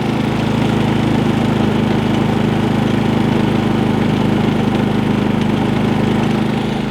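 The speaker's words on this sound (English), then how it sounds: "we're back outside with the generator, it's running" A Predator 3500 inverter generator runs steadily at close range, its engine droning with a constant hum and buzzing vibration throughout, with no talk over it.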